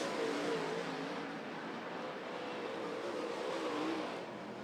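UMP dirt track race cars roar around North Florida Speedway, a steady, dense engine drone from several cars at once, loud and continuous with slight swells as the pack passes.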